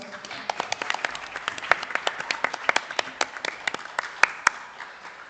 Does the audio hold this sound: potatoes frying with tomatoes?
no